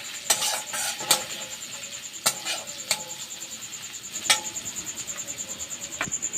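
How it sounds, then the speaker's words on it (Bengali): Spice masala with turmeric, coriander and cumin powder stirred in a pan, a soft continuous sizzle broken by sharp scrapes and clinks of a utensil against the pan at irregular intervals, with a steady pulsing insect-like chirp running underneath. "এবারে মশলাটা একটু ভালো করে মিশিয়ে নেবো এর সাথে।"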